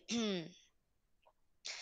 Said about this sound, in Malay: Saya batuk ni mesti kena telinga kat korang.